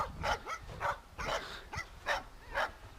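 Several dogs in a sunny park give repeated short barks and whining whimpers in bursts, fairly close and moderately loud, with no talk over them.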